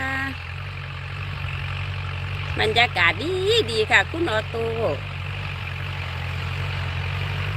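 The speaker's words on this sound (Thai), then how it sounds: "ดูรถไถนานะคะ" A farm tractor engine idles steadily with a low, constant rumble throughout, while someone talks briefly over it in the middle.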